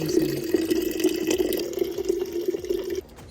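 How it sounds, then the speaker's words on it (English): Water pours steadily into a water bottle from a tap for about three seconds, a continuous close, rushing stream with a hollow filling tone that stops abruptly. "This is my new way of filling my water because I'm lazy."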